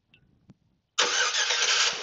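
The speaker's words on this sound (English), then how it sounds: "it's got remote engine start" A 2013 Chevrolet Silverado wheelchair-accessible pickup starts by remote start after a near-silent pause: the engine catches abruptly and settles into a loud, steady, close idle roar with no talk.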